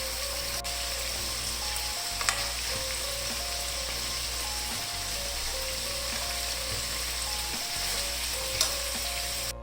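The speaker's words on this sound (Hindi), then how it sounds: "दूसरे पैन में भी मैंने चिकन पीस को फ्राई होने के लिए रख दिया है" Chicken pieces fry on a hot tawa pan for street-style tawa chicken, a steady, close, continuous sizzle with faint crackles and occasional soft scrapes throughout.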